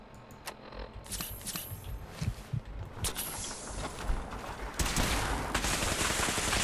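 Railgun fire in Fallout 4 comes as sharp, separate blasts early on. It builds into a dense, continuous roar of gunfire and explosions in the last seconds.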